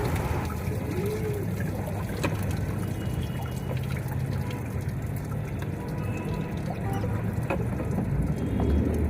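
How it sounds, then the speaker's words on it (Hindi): Clothes are washed by hand with water at home, giving continuous splashing, trickling and dribbling sounds close by, steady throughout with no speech. "तो अब मैं ये बाकी के कपड़े धो रही हूँ।"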